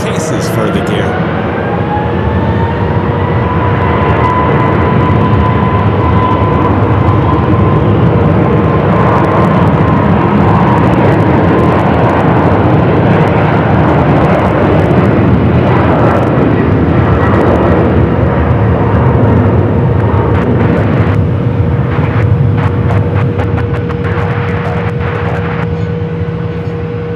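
Frontier and Alaska airliners at Phoenix Sky Harbor airport make a loud, steady jet roar with a whining engine tone that holds throughout, with faint voices underneath.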